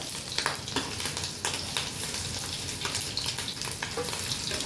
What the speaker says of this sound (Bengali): এটা ফ্রাই হয়ে যাচ্ছে, নাহলে পুড়ে যাবে